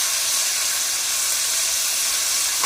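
Ginger, garlic and green chilli paste sizzles in hot oil for a fish curry, giving a loud, steady hiss with no break and no voices over it.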